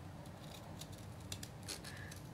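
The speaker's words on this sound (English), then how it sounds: "Grab your scissors." Scissors snip at close range in a few quiet, crisp cuts over a faint background hum, apparently trimming paper or card for a handmade mini album.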